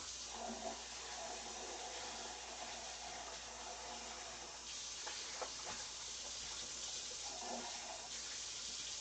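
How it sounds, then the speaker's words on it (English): Tap water runs steadily into a sink while meat containers are rinsed in a home kitchen, a continuous hissing flow with a few brief splashes and clatters, fairly quiet and alone without speech. "Just rinsing the containers that have the meat in them here."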